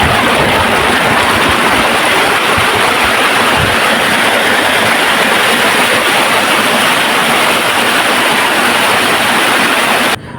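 River water pours from a check dam near the Kerala border outside Pollachi, a loud, unbroken rushing roar that fills the scene evenly from start to finish, close by and with no voices.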